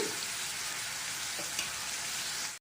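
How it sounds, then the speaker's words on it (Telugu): Brinjal curry with fenugreek seeds frying in a pan while being stirred, a continuous loud hissing sizzle with a few faint scrapes, no voices. "కలుపుతూ ఫ్రై చేసుకుందామండి"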